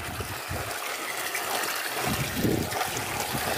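Spring water trickles and burbles continuously near Lake Scropoasa, a steady close stream of splashing flow with no pauses.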